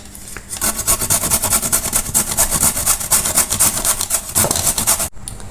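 Potato and carrot are grated on a metal grater in a home kitchen, with quick rhythmic rasping strokes repeating steadily, close and loud, ending in a brief pause.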